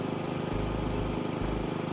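Steady motor drone of a lawn mower in the House Flipper video game, a continuous buzzing hum with brief swells in its low rumble, no talking over it.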